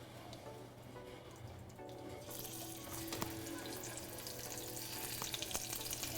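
Scallops sear in a hot pan with a steady, close frying sizzle that runs throughout and grows louder and denser about halfway through. No one speaks.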